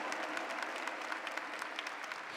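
A church congregation applauds during a sermon, steady, continuous clapping from many hands at moderate distance, fairly soft and even.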